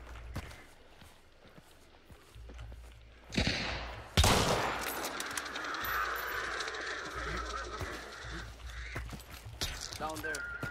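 Gunfire in a shooter video game: a burst of shots and a loud blast, then steady game noise with scattered sharp reports, heard under players talking.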